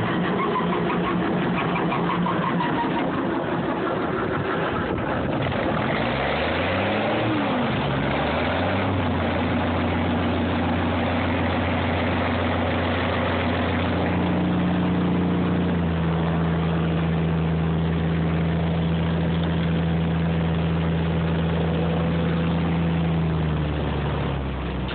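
An M35A2 deuce-and-a-half military truck diesel engine cranking hard on a cold start, with the starter churning and the engine catching into a rough, rising then steady idle, loud and close.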